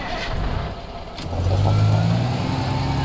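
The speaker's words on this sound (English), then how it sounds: "Yeah, we got a dump truck." A dump truck engine in the Teardown video game idles, then revs up loudly with a steady droning hum, heard close and alone.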